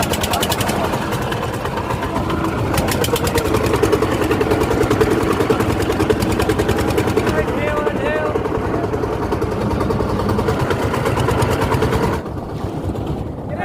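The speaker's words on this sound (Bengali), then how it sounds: "এখন আমাদের নৌকা স্টার্ট" A boat engine on the Chalan Beel wetland in Bangladesh chugs steadily and loudly throughout, its rhythmic rumble running under people talking, then dropping off near the end.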